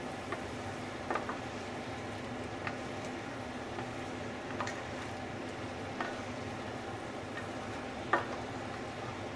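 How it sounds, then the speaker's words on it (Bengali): Chicken and pre-fried potatoes stirred together in a sizzling pan, a steady frying hiss broken by occasional scrapes and clicks of the spoon, close and moderately quiet with no talking. "এর মধ্যে দিয়ে দেবো ফ্রাই করে রাখা আলুগুলো, দিয়ে খুব ভালো করে মিক্স করে নিতে হবে"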